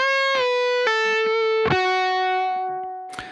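Electric guitar playing a short melodic lick, a few clear sustained notes sliding and stepping downward with a light effects tone, followed by a brief scratchy pick noise at the end, alone and close.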